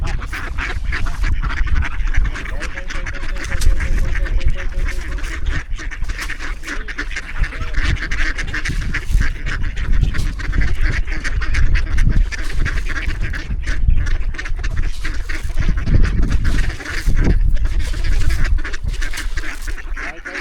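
A flock of ducks quacks continuously and densely near water, many birds calling at once, close and loud with no pauses.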